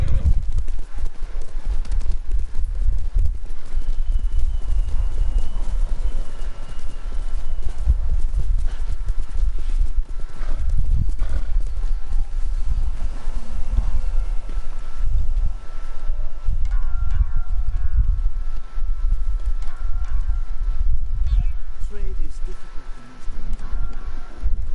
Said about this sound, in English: My horse went ahead out of danger.